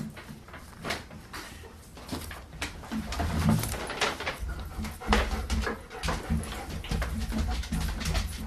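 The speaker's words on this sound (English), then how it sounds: "Sorry about our dog making noise." A pet dog whimpers and whines repeatedly as it comes into a room, the soft cries close by and ongoing over a background of household noise.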